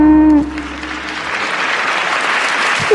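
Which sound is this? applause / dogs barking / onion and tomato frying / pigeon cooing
applause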